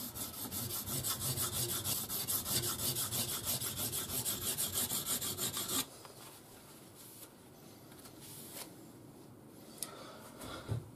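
A scandi grind knife being sharpened on DMT diamond stones, with rapid, even rasping strokes for about six seconds, then quieter, sparser scraping and a few light taps.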